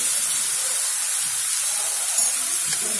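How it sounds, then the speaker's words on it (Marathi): Ginger and garlic fry in oil in a pan while cooking an aloo baigan sabji, a steady close sizzling hiss running evenly throughout with no talking. "आता आलं लसूण आपण व्यवस्थित तेल सुटेपर्यंत याला छान परतून घेऊया."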